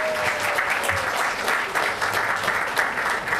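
Applause for a high school varsity tennis team at a city council meeting, a steady, fairly close patter of many hands clapping throughout with no talk over it.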